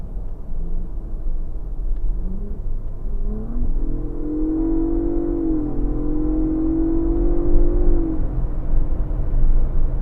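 A Ford Bronco Raptor in sport mode accelerates, a steady low engine rumble heard from inside that rises in pitch, eases across a gearshift and swells into a louder sustained drone under constant road noise.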